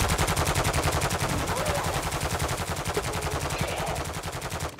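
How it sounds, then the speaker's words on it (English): Sustained rapid automatic gunfire from Call of Duty MW2 multiplayer, a loud, steady stream of evenly spaced shots filling the whole stretch without pause. "Oh guys, I'm being shot."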